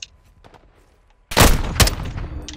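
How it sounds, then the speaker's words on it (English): Gunfire in the Modern Warfare 2 campaign: after a quiet stretch of faint clicks, a sudden loud burst of close shots erupts, with a second sharp crack about half a second later and a sustained rattling tail. "who's shooting at me?"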